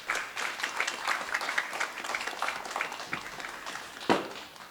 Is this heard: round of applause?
yes